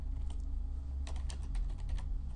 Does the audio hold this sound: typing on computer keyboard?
yes